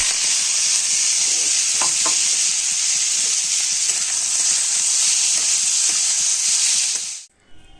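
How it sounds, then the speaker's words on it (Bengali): Boiled beetroot and potato pieces fry in hot oil with a loud, continuous sizzle and occasional knocks of a spoon stirring in the pan, then the sound cuts off abruptly at the end. "বিট আলুটা সেদ্ধ করে এখন নিয়েছি, এবার ভেজে নেব"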